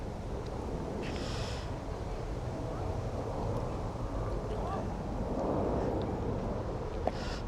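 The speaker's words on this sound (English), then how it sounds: "It's quite windy now." Wind buffets the microphone outdoors during a drone flight over Stepney Green in London, a steady low rumble that swells near the end, with no talking over it.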